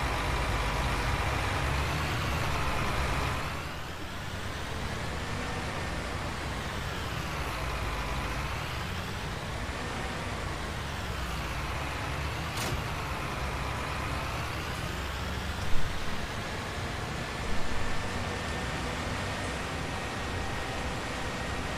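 A tractor hauling a tipper trailer in Farming Simulator 19 drones with a steady engine rumble, rising and falling gently in pitch, with a couple of brief knocks near the end.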